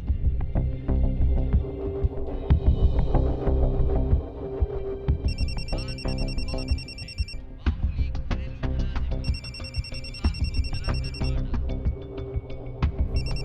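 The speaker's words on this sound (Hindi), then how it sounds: "जरा देखना, मोबाइल बज रहा है।" A mobile phone rings indoors in repeating electronic bursts over a steady background drone, most likely a television. The rings come in two clear spells and no one speaks.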